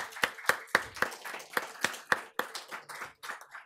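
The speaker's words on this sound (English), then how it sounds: "give her a big round of applause" A small audience claps at the close of a panel discussion on Balkan energy, with distinct, fairly sparse hand claps in an uneven rhythm that thin out toward the end.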